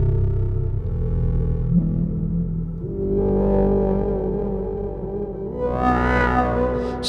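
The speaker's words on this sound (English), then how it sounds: "And I'm using that really rather tasty reverb." A GForce Oberheim SEM software synthesizer drenched in lush reverb plays a sustained, buzzy tone with a high modulated oscillator, shifting harmonics and a rising swell near the end, with no talking.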